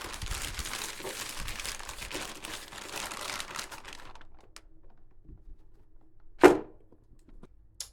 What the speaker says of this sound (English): So I'm just going to pop this in a plastic bag.